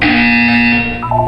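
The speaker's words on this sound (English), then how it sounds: "When you hear the buzzer, look down at the floor." A Portal 2 video-game buzzer sounds as one steady, loud electronic drone with a rich harmonic tone, holding for over a second before a brief wavering shift near the end, with no talking.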